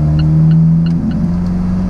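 An Alfa Romeo 4C with its 1750 TBI engine drives along, making a loud, steady engine hum whose low tone dips slightly partway through, with faint clicks above it.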